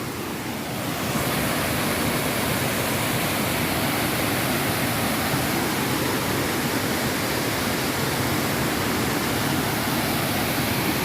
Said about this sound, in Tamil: எவ்வளோ சவுண்டு பாருங்கள் ஃபுல்லாக சவுண்டு ஃபுல்லாக தண்ணி விதுங்குது